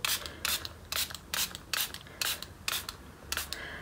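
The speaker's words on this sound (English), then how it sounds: "I am going to spritz this with some water. I've got a cheap dollar shop spray bottle." Cheap dollar-shop spray bottle spritzing water onto a card panel inked with Distress Oxide, seven quick sharp sprays in a steady rhythm, close and fairly quiet.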